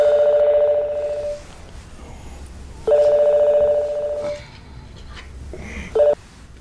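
A telephone rings in three electronic bursts, two long and one short, with pauses between them, loud and close and without talk.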